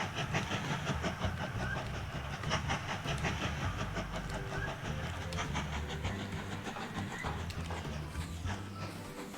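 A train in the train tycoon video game Mashinky runs with a steady, rhythmic clatter of wheels over track joints that continues throughout.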